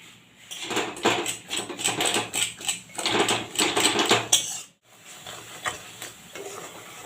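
Coconut and jaggery are stirred in a hot wok, giving a dense run of rapid rhythmic scraping and clacking strokes, a brief pause, then quieter, sparser stirring.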